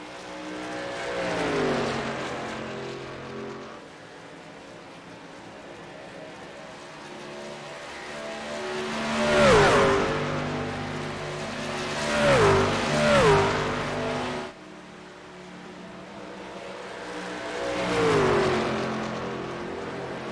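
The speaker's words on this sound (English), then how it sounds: "Adam Pettit, Michael Madden continue to race nose to tail back off of turn number 4" Race trucks in a championship series roar around an oval track under lights, engines swelling and fading as they pass close by in several loud waves, with revving and brief tire squeal.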